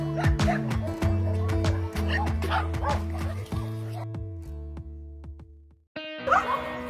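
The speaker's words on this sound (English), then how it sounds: "in the middle of the shelter, in the middle of more than 350 dogs" Dogs at a shelter holding more than 350 dogs, barking and yipping again and again in a dense, loud chorus with some whimpering, dropping to brief quiet near the end before more barks and a voice return.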